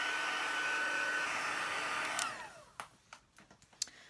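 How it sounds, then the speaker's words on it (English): A heat gun blows hot air over embossing on a handmade watercolour card, a steady, close whooshing hiss that switches off partway through, followed by a few light handling clicks and knocks. "we'll just heat that very quickly with our heat gun"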